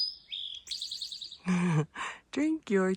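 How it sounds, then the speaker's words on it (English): Along the Appalachian Trail, an eastern towhee sings its clear chirping phrases, a few bright whistled notes and trills, and a voice talks in short bursts between them. "You hear that little bird? It's an eastern towhee."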